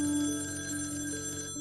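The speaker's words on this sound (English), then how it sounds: "The FBI released this creepy 1977 call from D'Angelo to one of his victims who survived his attack." Telephone ringing on a recorded 1977 call: a steady, continuous electric bell ring with a buzzing, tonal quality, heard alone and cut off abruptly at the end.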